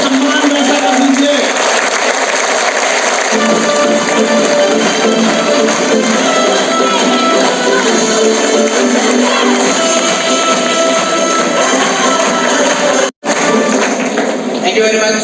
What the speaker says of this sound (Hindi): तो एक बार गुरुदेव के लिए कैसी तालियां होंगी?